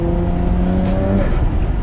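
A Nissan Skyline R34 GT-R with a titanium exhaust accelerates hard, its engine note rising in pitch with a raspy, buzzy tone, loud and heard from inside the car as it pulls through the revs.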